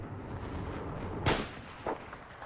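A sniper rifle in Battlefield fires two shots at targets at short range, one sharp crack near the middle and a softer one just after, over a steady background hum.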